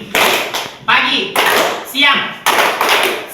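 Children in an Indonesian classroom play a rhythmic hand-clapping game, with short bursts of claps and taps separated by brief pauses and voices chanting along between and over the beats.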